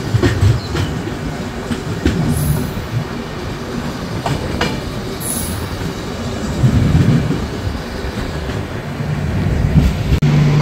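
Tourist Express train with Vistadome coach running near Hasimara station, a steady rolling rumble with clickety-clack of wheels over rail joints and occasional squeals, heard from inside.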